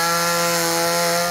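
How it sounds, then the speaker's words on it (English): An oscillating multi-tool buzzes loudly and steadily as it cuts through a plastic bumper panel on a 2023 Chevrolet, giving a constant high-pitched whine with no pauses or talking. "I'm gonna use an oscillating tool today. You can also use a razor blade to cut this plastic."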